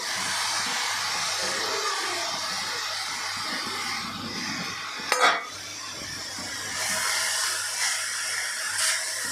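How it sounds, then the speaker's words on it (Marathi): Grated raw mango sautéing in ghee gives a steady hissing sizzle, with a sharp clatter of a spoon against the pan midway and the frying swelling again near the end; no voices. "तीन ते चार मिनटे आपल्याला ही तुपामध्ये परतून घ्यायची आहे"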